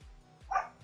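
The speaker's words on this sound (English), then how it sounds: "sorry for the barking." A dog gives a few short barks and yips, fairly close and moderately loud, with one sharper bark standing out.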